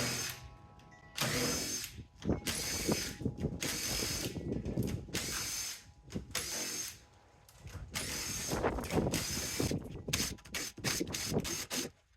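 A power drill driving screws one after another down a line, salvaged dumpster material as the workpiece; loud sustained whirring bursts with ratcheting clutch clicks, separated by short pauses, close up and with no talk.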